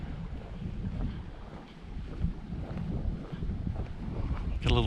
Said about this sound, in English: Got a little breeze out here, and you can hear literally waves splashing up against the side.